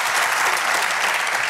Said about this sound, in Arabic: تصفيقة سيد الرئيس